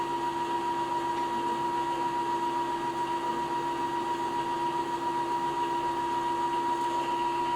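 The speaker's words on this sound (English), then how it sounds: "I just want you to see how it's sewing, how it's reeling the thread" A domestic sewing machine running off its start button with no pedal, reeling thread in a steady, even mechanical whir with a humming tone that holds without a break from start to finish.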